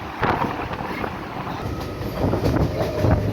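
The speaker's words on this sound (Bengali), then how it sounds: "আমাদের ট্রেন কামারকুন্ড ঢুকছে" Local train pulling into Kamarkundu station on the Tarakeswar–Howrah line: a steady, close rumble of wheels and carriages with faint rhythmic clatter, no voices.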